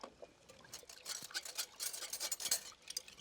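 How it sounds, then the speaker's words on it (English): A whisk clicks and scrapes quickly against a bowl, beating buttermilk dressing for a broccoli quinoa salad in a rhythmic, fairly faint stirring patter. "And then I'm gonna have you whisk"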